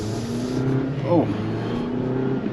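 A Jeep Wrangler Rubicon pulls away from low speed, its engine note rising steadily and heard from inside the cabin, with a continuous low drone and a brief swell partway through.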